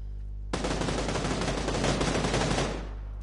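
Sustained burst of rapid automatic gunfire in PUBG (PlayerUnknown's Battlegrounds), starting abruptly and rattling loudly for over two seconds before cutting off, with a low steady hum underneath.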